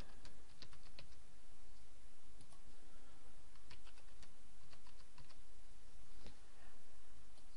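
A new password typed on a computer keyboard: a quick, steady run of light clicking keystrokes, close and clear, with no speech over it.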